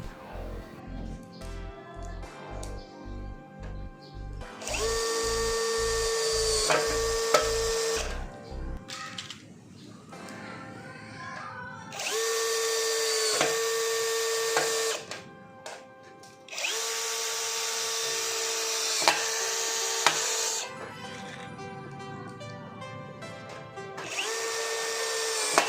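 Nagawa NCB1021 cordless brushless drill driving light-gauge steel screws, with bursts of high-pitched motor whine that ramp up and cut off, broken by brief pauses and a rapid clicking clutch ratchet near the start.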